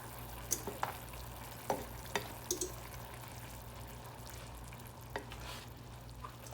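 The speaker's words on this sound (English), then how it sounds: "Now to my sauce, I'm going to add some butter." Butter goes into a pan of sauce for Haitian-style baked chicken, which is stirred over heat: a soft, steady sizzle runs throughout, broken by light scrapes and clicks of the spoon at irregular moments.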